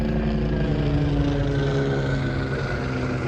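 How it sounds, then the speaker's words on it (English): A helicopter passes overhead outdoors on a farm, a steady loud rotor and engine drone that holds constant throughout with no speech. "I got a helicopter going over me"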